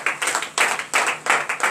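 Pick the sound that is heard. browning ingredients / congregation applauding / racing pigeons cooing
congregation applauding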